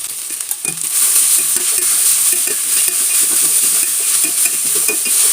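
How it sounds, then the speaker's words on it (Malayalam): Grated raw mango and turmeric powder sizzling and frying in a pan, with steady stirring scrapes and utensil clicks over a constant hiss, close and fairly loud throughout. "ഇനി നമ്മളതിലേക്ക് ഗ്രേറ്റ് ചെയ്ത് വെച്ച മാങ്ങ ഇട്ട് കൊടുക്കുന്നുണ്ട്. അതിലേക്ക് മഞ്ഞൾപ്പൊടി ഇട്ട് കൊടുക്കുന്നുണ്ട്."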